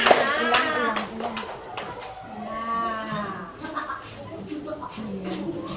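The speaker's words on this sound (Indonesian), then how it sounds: "Iya, tepuk tangan sama teman-temannya" Classroom clapping from schoolchildren for a classmate's presentation, a few scattered sharp claps at the start over noisy, overlapping children's voices and chatter that continues throughout.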